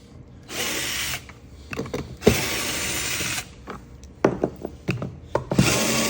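A power screwdriver whirs in short bursts, backing screws out of the green plastic base of a vacuum cleaner, with clicks and handling clatter between runs, close and clear, no voices.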